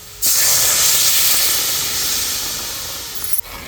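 Water poured into a hot pan of besan (gram flour) spinach bhaji hisses loudly and steadily after a sudden start, a broad rushing steam sound that fades slightly before cutting off.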